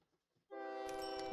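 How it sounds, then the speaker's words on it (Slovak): A diesel railcar train in the railway-building game OpenTTD sounds a loud, sustained horn-like tone that starts abruptly after a quiet moment and holds steadily to the end, with no talk. "Preto tu je takýto prdlavý vlak motorák, ktorý som postavil"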